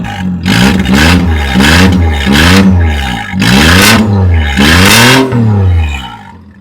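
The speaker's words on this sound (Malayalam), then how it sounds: "അപ്പം ഇതാണ് വാൽവട്രോണിക് എക്സോസ്റ്റ്" Modified car with a valvetronic exhaust, revved repeatedly close to the exhaust: about five loud, rhythmic throttle blips, each rising and falling sharply, with no talking.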